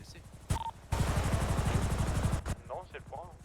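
Helicopter in the video game GTA V during a roleplay military mission, its rotor beating in a steady rapid rhythm and its engine droning loudly throughout, with brief interruptions and people talking over it.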